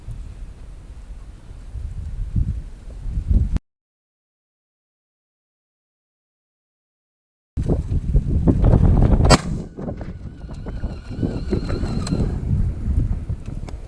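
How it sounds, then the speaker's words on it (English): Strong gusty wind buffets the microphone at an outdoor shooting range, loud rumbling blasts that cut out abruptly to silence, then return with sharp bursts and ongoing roar. "I've never shot in wind like this"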